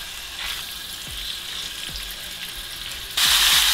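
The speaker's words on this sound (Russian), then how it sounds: "Масло нагрелось, отправляем сразу печень жарить." Liver fries in hot sunflower oil in a pan, a constant close sizzle with soft clinks, suddenly growing louder and more crackling near the end.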